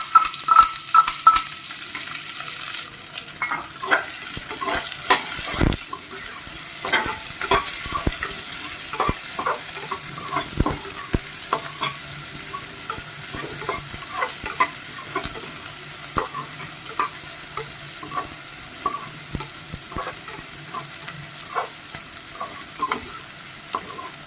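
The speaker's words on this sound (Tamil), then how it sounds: "நல்லா நம்மளோட ஆனியன் எல்லாமே நல்லா ஃப்ரை பண்ணி வச்சு" Onions frying in spiced oil in a pan for aloo biryani, a steady close sizzle under repeated scraping and clinking of a spoon stirring against the metal, with no talking.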